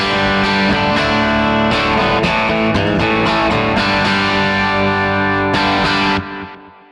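Electric guitar through a Deluxe Reverb V2 amp model on a Stadium unit with a 2x10 cab IR, a little drive and the bright switch on, playing loud, sustained overdriven chords alone that ring out and fade at the end.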